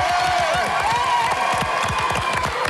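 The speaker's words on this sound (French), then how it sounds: "Quelques applaudissements pour l'équipe blanche." A French television game show studio audience applauds loudly and continuously, dense clapping with some cheering and whoops throughout.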